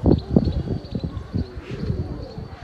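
Pigeons kept for rooftop fighting coo and flutter close by, soft repeated coos mixed with wing flaps and scattered bird noises, with a voice talking faintly underneath.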